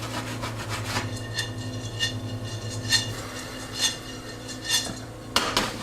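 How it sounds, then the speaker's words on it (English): Pine nuts being toasted in a small pan: a rhythmic series of light scraping, rattling strokes, close and moderately quiet, repeating about once a second with no speech. "So I'm going to toast some pine nuts"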